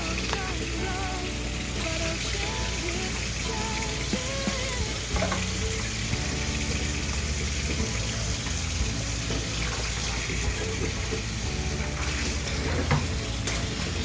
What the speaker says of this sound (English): rinse them off really good